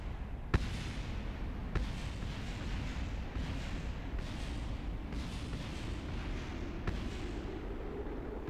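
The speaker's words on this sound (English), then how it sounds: "They're all exploding." Rocket parts exploding in Kerbal Space Program, a dull rumbling roar with a few sharp cracks of detonation spaced through it, fairly loud and continuous with no talk.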